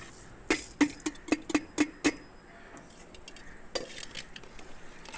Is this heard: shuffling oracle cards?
no